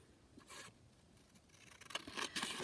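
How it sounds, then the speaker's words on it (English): Scissors snipping out a paper piece, soft quiet cuts and rustling that grow a little busier toward the end, close and faint. "So I'll just cut the other one out."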